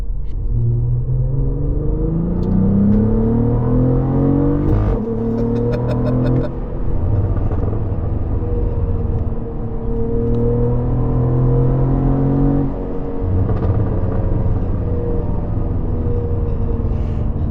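Cadillac CT4-V Blackwing engine pulling hard while driving, a loud, steady rumble with rising and falling harmonic tones as it revs through gears, a brief dip near the middle, no talk.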